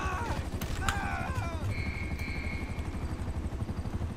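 A helicopter in the video game GTA Online whirs steadily at moderate loudness throughout, with game effects and brief tonal chirps layered over its continuous low rotor drone.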